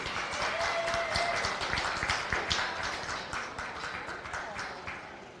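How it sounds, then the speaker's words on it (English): A crowd at a county fair goat show claps in sustained, even applause that gradually fades over several seconds, with faint voices in the background. "Let's give them all a big round of applause."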